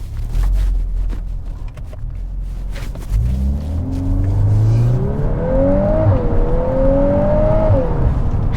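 A 2022 Volkswagen Golf R MK8 with DSG gearbox, in race mode on a paved section, revs up loudly with rising engine pitch through gears, a close, strong rumble and whir with no talk.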